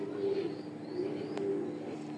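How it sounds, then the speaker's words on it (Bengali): A racing pigeon gives soft low coos close by, a few short murmuring calls over a quiet indoor hum. "কতটুক সুন্দর কবুতর"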